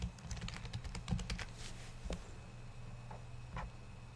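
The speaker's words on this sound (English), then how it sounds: "I'm gonna type in my first project." Rapid clicking of typing on a computer keyboard while entering a project name during a Java Eclipse setup, irregular bursts of close keystrokes over about four seconds with a steady low hum beneath.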